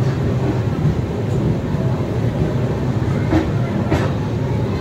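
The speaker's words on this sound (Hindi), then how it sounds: "अपनी ट्रेन का प्लेटफॉर्म नंबर 3 पे अराइवल हो रहा है गोंडा जंक्शन के प्लेटफॉर्म नंबर 3 पे" A Vaishali superfast express rolls into platform 3 at Gonda Junction with a continuous low rumble and rattling wheels, close and steady, with faint hiss-like bursts near the end.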